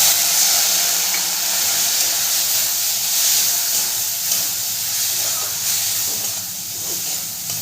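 Water poured into a pan of frying ground spice paste for ghugni sets off a loud, steady steam hiss and sizzle that runs unbroken and close throughout, with no voices over it.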